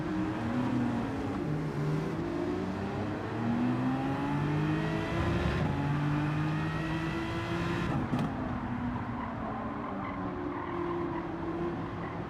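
A Gr.3 race car in Gran Turismo 7 running off track through grass and gravel, engine droning and shifting pitch with revs as gears change, a continuous loud motor with rumbling surface noise.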